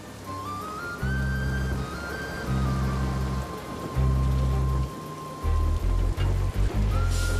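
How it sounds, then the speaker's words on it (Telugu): Heavy rain pours down in a Telugu action film driving scene, a steady hiss of rainfall throughout, with low rhythmic music pulses and a held tone running beneath it. "నేను డ్రైవింగ్లో ఉన్నా ఇక్కడ బాగా వర్షం పడుతుంది వినిపించట్లేదు"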